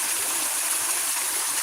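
Outdoor waterfall pouring into a large pool, a steady broadband rush of flowing water heard close and loud throughout with no pauses.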